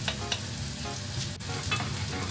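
Garlic sautés in oil over a moderate flame for simple mie ayam, making a close, continuous crackling sizzle for a couple of seconds.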